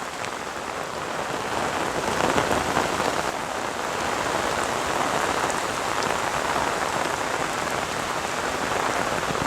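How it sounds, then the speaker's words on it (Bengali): Heavy monsoon rain pouring down on a Bengali village, a dense, steady hiss of rain on surfaces filling the whole stretch without pause, fairly close and even in loudness, with no voices. "এই মুহূর্তে বৃষ্টি প্রচুর পরিমাণে।"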